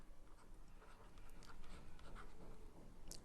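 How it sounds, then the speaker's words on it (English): Writing on a board during a physics lecture: quiet, scratchy strokes and light taps, close and soft, with no talk over them. "Let me write it down"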